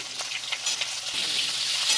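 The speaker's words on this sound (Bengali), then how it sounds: "উচ্ছেগুলো আমি একটু ভেজে নেবো ভালো করে" Bitter gourd fries in hot oil in a wok, giving a bright, continuous sizzle with faint crackles throughout a short stretch.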